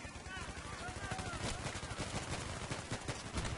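Automatic gunfire in the PC shooter Battlefield 3 crackles through a dense, loud battle mix, with rapid bursts and shots running continuously under a man's speech.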